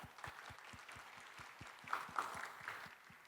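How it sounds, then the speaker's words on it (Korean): Applause for government team members at an innovation expo, heard as faint, fairly distant rhythmic clapping with a steady beat and some brighter claps joining partway through. "이분들을 위해서 우리 박수 한번 보내실까요?"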